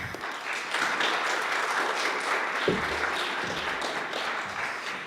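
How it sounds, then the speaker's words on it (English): An audience claps steadily for several seconds at student union election speeches, a dense patter of applause from a room full of people. "Give a round of applause."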